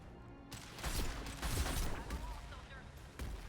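An upgraded sniper rifle fires in Mass Effect 2 (Legendary Edition) during combat: several sharp, loud shots layered over dense, noisy battle sounds, with a few heavier bursts through the short stretch.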